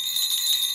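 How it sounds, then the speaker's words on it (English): A small jingle bell rings with a steady, bright, shimmering tinkle, held close and continuous for a brief moment with no voices over it. "Jingle bells. I love this one. I love that noise."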